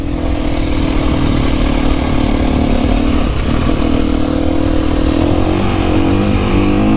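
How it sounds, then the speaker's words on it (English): A 2025 KTM EXC-F four-stroke dirt bike ridden through snow, its engine droning steadily and loudly up close with a constant mid-pitched hum and slight rev changes. "So weird riding a 4-stroke."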